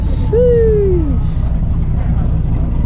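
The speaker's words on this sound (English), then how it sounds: "Crazy ass turbo, bro. The turbo is huge." A huge turbo on a Pro Mod-style car at a Cars and Coffee meet lets out a loud, falling whistle lasting about a second over a constant engine rumble and crowd noise.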